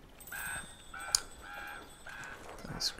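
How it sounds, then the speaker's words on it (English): Crows in the video game Tearaway Unfolded give a series of repeated, moderately loud caws at a steady spacing, with a sharp click and a higher chirp near the end. "Those crafty crows."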